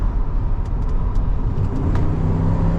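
Engine and road noise from a 1993 Cadillac Allante while it is being driven: a loud, steady low rumble with constant tire and wind roar and no talking.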